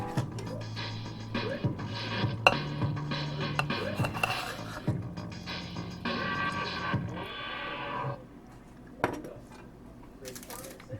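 Greens being stirred and wilted in a pan while cooking Samyang Buldak Light instant noodles with Lao Gan Ma chilli crisp, giving a steady run of scraping, clinking utensil-on-pan sounds with a few sharper knocks, close and moderately loud, fading near the end.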